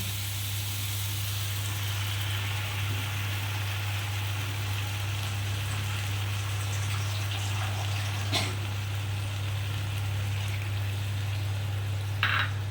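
Water poured into a hot pan of aubergine and hilsa curry gives a steady, close hiss and rush that runs unbroken throughout over a low, constant hum, with a faint clink near the end.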